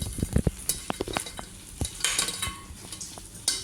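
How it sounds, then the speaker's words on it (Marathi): Colocasia leaf bhaji frying in oil until crisp and browned, a low bubbling sizzle broken by frequent sharp clinks and scrapes of a utensil against the pan, with no talking. "असं रंग येईपर्यंत तळायचं, ते क्रिस्पी होतं."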